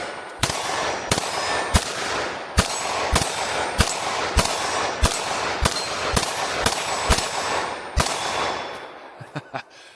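A Smith & Wesson 22 Magnum pistol fires Critical Defense ammunition in a steady string of about a dozen sharp, loud cracks roughly half a second to a second apart, then a few softer clinks at the end.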